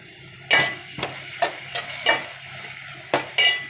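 Onions for coconut palya sizzle steadily in a pan while a spoon scrapes and stirs them, giving about seven sharp strokes at an uneven pace. The cooking sounds close and carries on alone.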